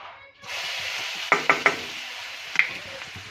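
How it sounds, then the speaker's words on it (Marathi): A steady hiss of tempering spices sizzling in a hot iron pan, broken by a few sharp metallic knocks, three in quick succession and one more shortly after. "आता लोखंडाची कढई गरम झाली त्याच्यामध्ये आता फोडणी देते"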